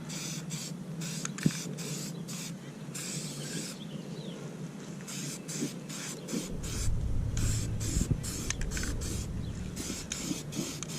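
Primer sprayed from a can onto a lawn mower deck: bursts of airy hiss with short gaps, then a longer steady spray, close and moderately quiet.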